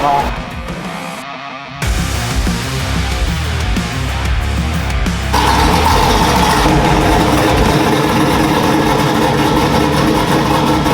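A loud truck engine idles with a steady low rumble and a few brief revving swells, running continuously close by while people talk over it.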